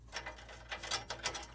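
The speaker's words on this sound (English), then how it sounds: "unscrew the screw that holds the flame sensor in." A flathead screwdriver backs out the screw holding the flame sensor on a Comfortmaker furnace, giving faint, irregular small clicks and scrapes of metal on metal, close and quiet with no talk.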